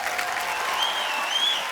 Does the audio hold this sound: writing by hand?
no